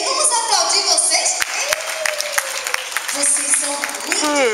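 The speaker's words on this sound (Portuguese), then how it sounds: "Vamos aplaudir vocês?" An audience applauds children at a church children's congress, with brisk clapping running under a speaking voice throughout.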